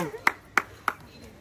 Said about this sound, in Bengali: জোরদার তালিয়া বোনের জন্য